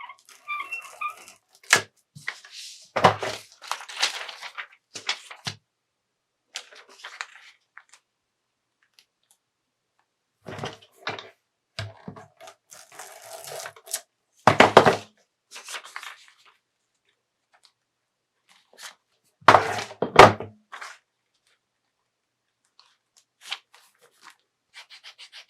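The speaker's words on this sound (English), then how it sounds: "I just use my tape gun for all of this." A tape gun pulls and presses tape onto a paper recipe booklet in short rasping screeches and clicks, several bursts separated by quiet pauses, close and fairly loud.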